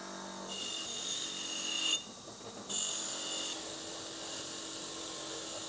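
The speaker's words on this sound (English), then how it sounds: "Those sparks coming off are the loose scale from the steel, heating up with the friction from the wheel and coming off." Grinding wheel cleaning loose scale off a steel axe head, a steady high-pitched whirring grind close by that briefly drops out and then resumes, continuing evenly without talk.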